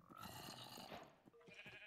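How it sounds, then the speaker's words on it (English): Summoned goats bleating in Minecraft, a couple of short nasal bleats close up and fairly faint, with no talk. "I summoned goats."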